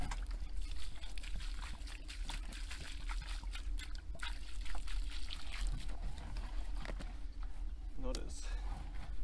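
Water poured from a container onto soil around the base of a macadamia tree, a steady trickling and splashing that runs through the clip at close range over outdoor background noise.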